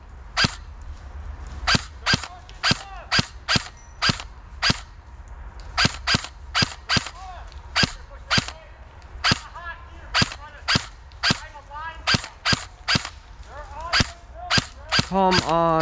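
Airsoft BB guns fire outdoors in a rapid string of sharp single pops, some spaced and some in quick pairs, with faint voices and shouting in the background between shots.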